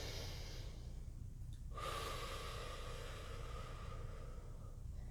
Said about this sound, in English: So let's just hold and breathe there for a moment.